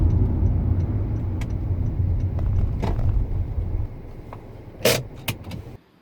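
A car rolls into the Bakerview Church parking lot, its steady low engine rumble continuous throughout, with a few light clicks and jingles and a sharper rattle near the end before the sound cuts out.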